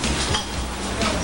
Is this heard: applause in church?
no